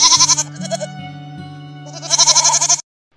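A goat bleats in loud, wavering bursts at the start and again toward the end, with a sustained tonal backing in between before the sound stops abruptly.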